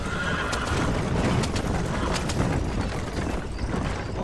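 Galloping horses in the open-world western game Red Dead Redemption, their hooves pounding in a fast continuous rhythm with repeated neighs cutting through, loud and close throughout.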